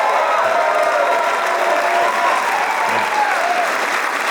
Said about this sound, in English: please, another round of applause from Mr. Sean Peck.